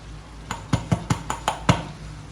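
A utensil clinks against a pot in six quick, evenly spaced knocks as ground spice powder is tipped into a crab pepper masala and stirred, close and fairly loud with no talking.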